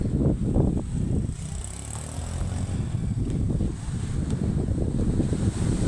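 High-tide sea waves surge against a low house and fence, a steady rushing wash mixed with heavy wind buffeting the microphone, no voices.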